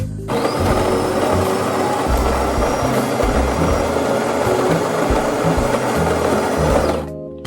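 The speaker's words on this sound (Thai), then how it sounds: "ระหว่างนี้ก็จะเป็นขั้นตอนการบดเมล็ดกาแฟค่ะ" A De'Longhi automatic coffee machine grinds coffee beans for a latte, a loud, steady mechanical whirring and grinding running continuously for about seven seconds, then cutting off abruptly.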